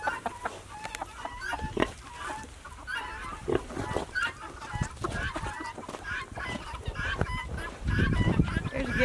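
Guinea fowl near a rattlesnake keep up a noisy mix of harsh clucks, chatter and honk-like calls, close by and continuous, with other poultry joining in.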